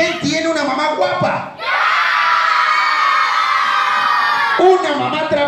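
A party crowd of children and adults shouts together in a loud, sustained group yell at a birthday-style fiesta, rising sharply after a short pause and holding for several seconds, with scattered voices and cheering around it.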